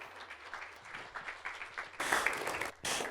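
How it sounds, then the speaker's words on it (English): Congregation applause at a church service welcoming a guest preacher, scattered claps at first building into a loud burst of full applause near the end. "So let's give him a round of applause."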